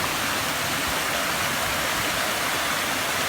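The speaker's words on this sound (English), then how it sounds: "And the water is rushing underneath it." Water rushes under a bridge beside a snow-covered road, a steady, loud, close broadband roar with no pauses and no talk.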